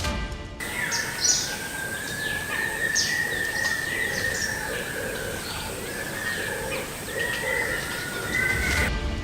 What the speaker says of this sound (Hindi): वहाँ चिड़िया भी चहचहाने लगती है